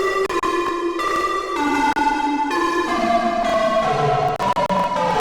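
A Serum synth patch with overdrive and OTT compression from a song remake plays a bright, buzzy melodic line of sustained chords that steps downward, loud and alone.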